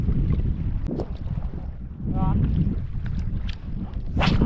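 Strong wind buffets the microphone outdoors during lure fishing from a small shelter, a loud continuous low rumble that gusts and eases, with brief faint voices and a splash-like hiss near the end.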